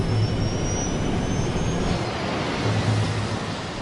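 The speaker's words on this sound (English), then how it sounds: "The plane is gobbling up 80 meters of runway every second." A Qantas Airbus A380 jet airliner rolls down the runway with a steady broadband roar and a low engine rumble, constant and fairly loud, with no voices.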